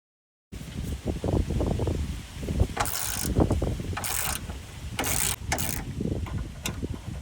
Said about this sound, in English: Just need to loosen it up, and the gun should do the rest.